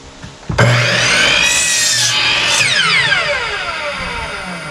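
A saw cuts through the end of a wooden board for a flower box, a loud close rasping stroke starting abruptly and running steadily for several seconds with a sweeping, ringing tone as the blade bites.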